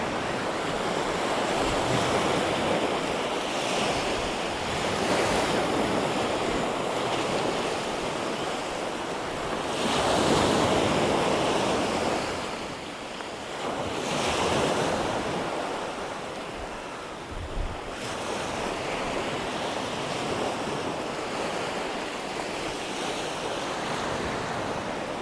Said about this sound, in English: There's something very calming and soothing about the waves crashing to the shore, isn't there?